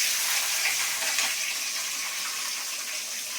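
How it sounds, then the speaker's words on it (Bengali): Onions fry in hot oil in a kadai with bay leaves and dried chilies, giving a loud, steady, bright sizzle that holds close and constant with no talking. "আমি এখানে পেঁয়াজগুলোকে ভালো করে ভেজে নিই।"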